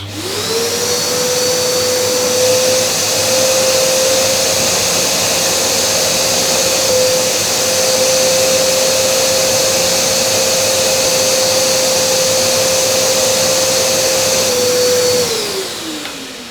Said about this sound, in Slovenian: Vklopimo sesalni motor, sesamo in zraven spiramo.